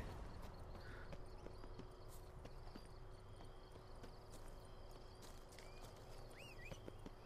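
Horse hooves clip-clop steadily in Witcher 3: Blood and Wine as the rider travels, a faint even rhythm of footfalls under a constant ambient game bed with a few bird-like chirps late on.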